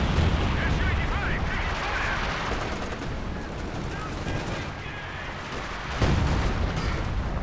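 Gunfire and explosions from a 4v4 battle in the World War II strategy game Company of Heroes 2 form a dense, continuous rumble of shots and blasts, with a sharper burst near the end.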